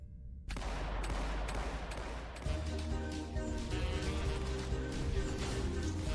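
Gunfire from a twin-stick shooter video game trailer bursts in after a brief silence, dense rapid volleys of shots and explosions layered over a driving music-like backdrop, loud and continuous.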